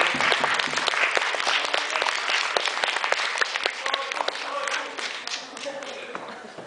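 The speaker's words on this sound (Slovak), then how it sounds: "poprosím ešte raz potlesk" An audience at a cosplay contest applauds in a dense, sustained wave of clapping that slowly thins toward the end, with a few voices mixed in.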